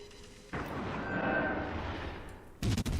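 Battleship guns fire in a naval video game, a deep booming blast rolling into a long rumbling decay, followed by a second sharp burst of impacts near the end.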